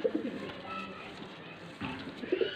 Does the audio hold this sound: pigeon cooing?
yes